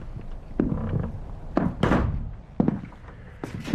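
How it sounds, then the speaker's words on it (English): An indoor door pushed shut, heard as a few dull wooden thunks and knocks with a firmer slam-like impact, each clear and fairly close. "Close the door."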